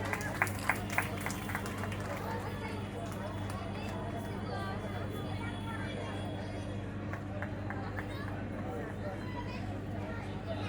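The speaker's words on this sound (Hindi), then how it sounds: "जोरदार तालियों से स्वागत कीजिए" Audience applause welcoming a speaker at a Maharshi Valmiki birth anniversary celebration, scattered claps through a steady hum of crowd noise and amplified talk.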